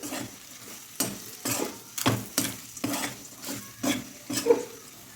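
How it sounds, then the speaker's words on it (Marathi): Mutton keema frying with masala in a pan, a low sizzle broken by regular scraping strokes of a spatula, about one stir per half second, close and clear. "मस्त फ्राय करून घेऊ आपण एक ते दीड मिनिट मसाल्यासोबत"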